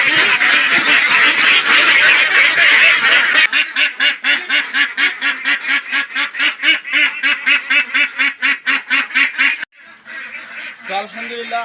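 A flock of about fifty-two farm-raised ducks, grown over ninety days, quack loudly and continuously nearby, first in a dense overlapping chorus, then in a steady rapid run of calls, ending with a brief lower mix of voices.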